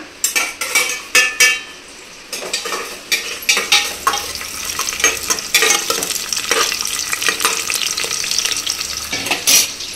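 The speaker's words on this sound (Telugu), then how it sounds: "ఆయిల్ బాగా హీట్ అయింది. ఇప్పుడైతే నేను ఆనియన్స్ వేస్తున్నా." Onions fry in well-heated oil for a mutton curry, a loud continuous sizzle broken by sharp scraping spoon strokes and clanks against the pan, close up with no talk.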